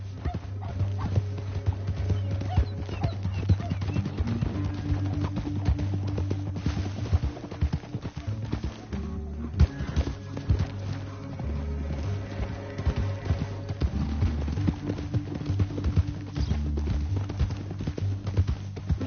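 Horse hooves clip-clop in a steady rhythm throughout in the video game Red Dead Redemption 2, with background game music and ambient noise.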